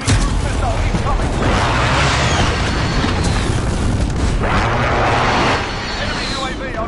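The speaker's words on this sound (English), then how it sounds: "Enemy cruise missile incoming." A cruise missile strike in a Call of Duty-style shooter game: a loud, sustained roaring blast with rumbling debris lasting several seconds, dropping off slightly near the end, with game announcer voice lines around it.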